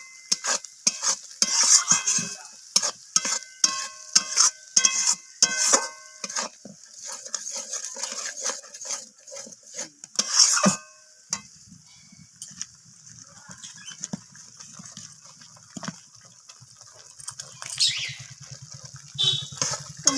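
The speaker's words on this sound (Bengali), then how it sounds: "মশলাটাকে একটু নাড়াচাড়া করে সেটা মশলাটাকে রান্না করে নিতে হবে।" A utensil clatters and scrapes rhythmically through spice paste cooking in a pan, with sharp metallic knocks at first, then quieter stirring and a faint sizzle.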